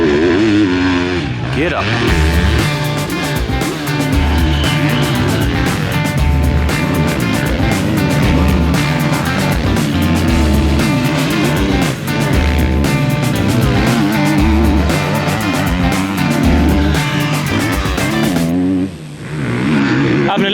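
Motocross bikes lap a hilly dirt training track in Sardinia, engines loud and close, revving and droning nearly nonstop, with people speaking over the noise.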